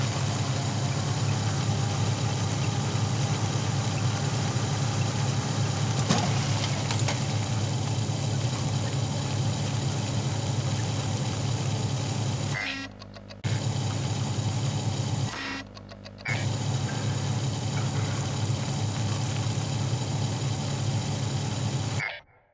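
A truck engine idles steadily in the video game Prospice, a constant low rumble with a continuous hum. It drops out twice for a moment before resuming, then cuts off at the end.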